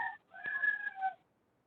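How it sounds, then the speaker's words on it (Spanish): A rooster crows from a distance during a programming class, a single drawn-out call lasting about a second, heard alone without talk. "por allá se escucha un gallo"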